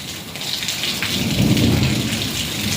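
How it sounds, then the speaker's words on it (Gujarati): Steady heavy unseasonal summer rain pours throughout a mini storm, with a deep rumble of thunder building in the middle and fading out. "વીજળીના કડાકા ભડાકા થાય છે"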